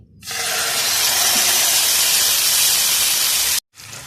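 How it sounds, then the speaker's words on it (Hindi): Chicken dropped into two tablespoons of hot oil in a pan, a sudden loud, steady hissing sizzle that runs close and unbroken, cutting out briefly before resuming. "2 टेबल स्पून मैंने इसमें ऑयल का डाला है और अब मैं इसमें चिकन डाल दूंगी"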